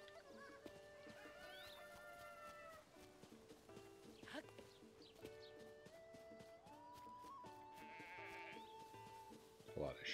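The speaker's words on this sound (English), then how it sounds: "Sheeps." Sheep bleat at a stable in Zelda: Tears of the Kingdom, several wavering calls scattered over chirpy game music and ambient sounds, with a voice talking in between.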